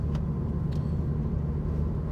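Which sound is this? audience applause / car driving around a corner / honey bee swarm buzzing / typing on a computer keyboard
car driving around a corner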